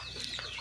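Egyptian Fayoumi hens give a short, close cluck in a small backyard flock, one brief nervous call standing alone.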